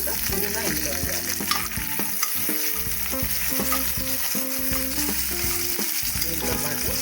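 Onions sizzle steadily in a pan as mint leaves are added while cooking egg biryani, a continuous close frying hiss with occasional stirring scrapes, and soft background music plays under it.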